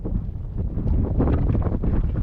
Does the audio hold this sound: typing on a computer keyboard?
no